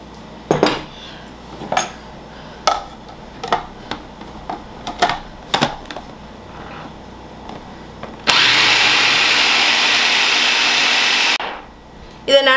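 A kitchen mixer grinds ingredients into a smooth paste for butter chicken, a loud steady whirring roar lasting about three seconds, preceded by a run of sharp metallic clinks and taps from utensils.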